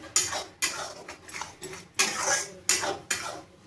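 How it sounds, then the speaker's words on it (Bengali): A spatula scrapes and stirs ivy gourd (kundri) paste in a pan in about six brisk, rhythmic strokes, close and clear, with metallic scraping and no talk. "এবার আমি ভালোভাবে নাড়িয়ে নেব।"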